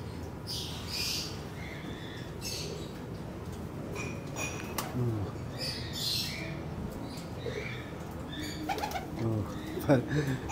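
Pigeons in a young-bird loft coo and flutter, with scattered soft coos, squawks and wing flaps at close range over a quiet background, and a voice murmuring faintly at moments.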